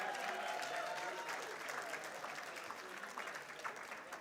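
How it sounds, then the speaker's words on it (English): Applause from a gala audience at an animal humane society fundraiser, steady dense clapping that stays fairly even and moderately distant throughout. "Would you give all them a huge round of applause?"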